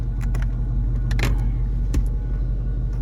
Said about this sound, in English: So got to put the key in the ignition, turn it to run.